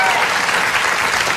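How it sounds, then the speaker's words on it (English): Studio audience applause on a late-night talk show, a brief, loud, dense burst of clapping that fills the whole moment. "The applause sign went on?"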